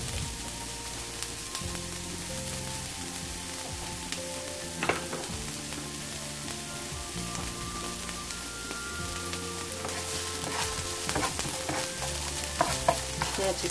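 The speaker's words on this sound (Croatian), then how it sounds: "luk stavljamo, najprije malo da popražimo" Chopped onion frying in vegetable oil in a pan, a steady close sizzle with occasional stirring scrapes, over soft background music and no talking.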